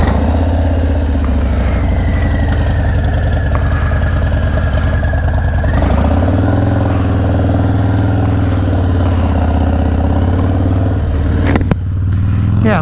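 A motorcycle fitted with a Reckless fairing rides at low speed, its engine a loud, steady drone with a shifting pitch and a wind rush, heard up close without talk.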